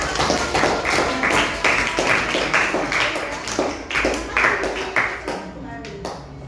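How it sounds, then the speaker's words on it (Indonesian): A classroom of students claps together in a lively burst of close, sharp handclaps that fall into a loose rhythm. Voices mix in, and the clapping fades out toward the end. "kita berikan tepuk tangan"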